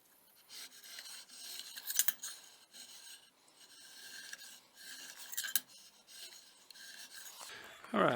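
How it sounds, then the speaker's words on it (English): A height gauge scribe is drawn across knife steel in a series of faint, thin scratching strokes, each a short rasp separated by pauses, quiet and close with no talking. "So I'm going to get my height gauge set and get this scratched in"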